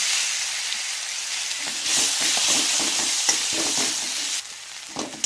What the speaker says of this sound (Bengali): ওই তেলের মধ্যেই একটা তেজপাতাকে ফোড়ন দিলাম একটা শুকনো লঙ্কাকেও ফোড়ন দিলাম কেটে এবার ওর মধ্যে পেঁয়াজ বাটাটাও দিয়ে দিলাম